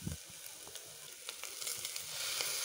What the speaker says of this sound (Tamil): இப்போது இஞ்சி பூண்டு பேஸ்ட் போட்டு நல்லா வதக்கி விடுங்க, பச்சை வாசம் போக வரைக்கும்